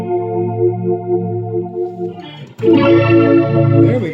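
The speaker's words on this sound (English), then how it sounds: "See if we can get an organ thing and a Leslie thing happening here." An electric guitar plays sustained chords through an Electro-Harmonix Epitome pedal's swirling chorus effect, giving a warbling Leslie organ-like tone that swells louder midway.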